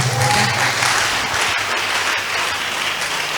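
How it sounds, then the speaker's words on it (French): A congregation at a church workers' meeting claps for the Lord, a full, continuous round of applause with a faint low hum beneath it throughout. "Applaudissons pour le Seigneur. Applaudis vite."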